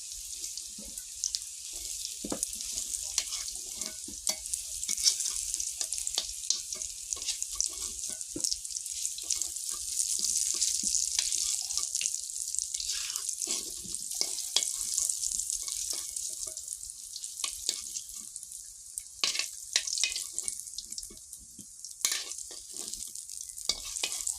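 Potatoes fry in a pan of hot oil, a steady bright sizzle running throughout with occasional scrapes and clicks of stirring, close and fairly loud, no one talking.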